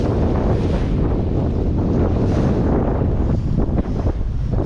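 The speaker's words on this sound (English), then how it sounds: "Okay, so here's a wave coming at me just because somebody just came in right now." A lake wave hits a Bayliner Element boat amid loud, constant wind buffeting the microphone, a thick rushing wash of water and wind with no voices.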